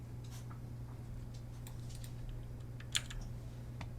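Keys tapped on a computer keyboard while setting up 3ds Max 2020 shortcuts, a few light scattered clicks and one sharper keystroke over a steady low electrical hum, close and quiet.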